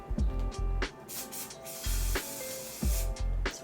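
Kryolan fixing setting spray is misted in three separate bursts, each a short, close, airy hiss with a pump-click at its start and quiet gaps between them.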